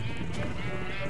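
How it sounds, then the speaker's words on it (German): Sheep bleating in Minecraft, muffled as if heard through a wall with the windows shut, a steady nasal bleat filling the whole short moment at moderate loudness. "Aber die Schafe sind selbst durch die Wand so laut"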